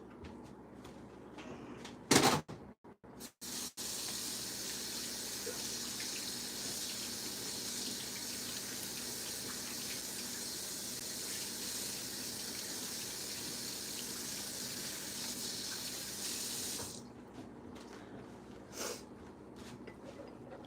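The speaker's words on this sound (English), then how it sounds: "I'm gonna give my hands one more quick wash." Tap water runs steadily into a kitchen sink for about fifteen seconds while hands are washed, after a few clunks at the start, with the flow cutting off near the end.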